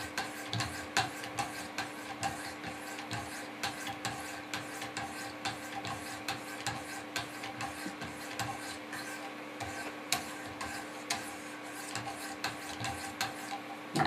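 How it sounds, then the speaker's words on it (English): A Benchmade Mini Griptilian knife blade is polished on 600 grit sharpening stones in a clamp system, producing soft, steady rhythmic rasping strokes close to the listener, repeating evenly for over ten seconds without talking. "Flip the stones over to the 600 grit side and just finish polishing."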